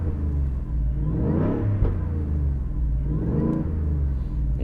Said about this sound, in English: So this is a real Raptor with a real V8. And inside, got a nice sound to it.